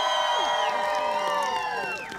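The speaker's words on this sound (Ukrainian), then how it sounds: "Ваші оплески, це варте ваших аплодисментів." Audience at an outdoor karaoke show on a town square, a crowd cheering and whooping loudly, with shouting voices over sustained noise that fades slightly near the end.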